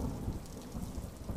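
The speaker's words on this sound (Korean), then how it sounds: "여전히 비가 오는 듯 했습니다." Steady heavy rain patters with deep rumbling thunder rolling underneath, a continuous storm used as a sound effect in a Korean horror story, with no voices.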